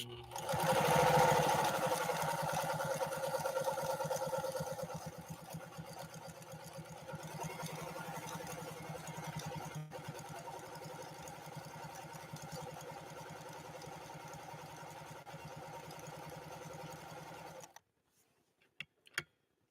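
A 1955 Pfaff 230 sewing machine with a 1.3 amp motor runs slowly and steadily, its close, even mechanical hum and fine stitching rhythm going for about seventeen seconds before stopping, with a couple of small clicks afterward.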